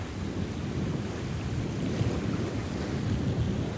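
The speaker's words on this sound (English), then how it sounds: "just have the quiet of the waves" Steady low rumble of lake waves washing on a beach in Wisconsin, continuous and even, with wind noise and no voices.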